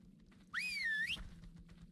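Command whistle in the video game ARK, a single rising and falling tonal whistle of about half a second, clear over quiet background rumble.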